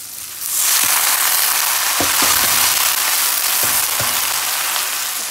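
Onions sautéing in a pan for a Tamil drumstick-leaf and egg poriyal, a loud steady sizzle and crackle with scattered sharp pops throughout, no voices.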